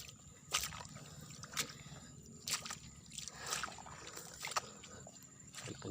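Wading through deep floodwater in a flooded rice paddy, with repeated sloshing and splashing steps at a walking rhythm over a steady low background of moving water, moderately close.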